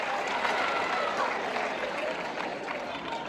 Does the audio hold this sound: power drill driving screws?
no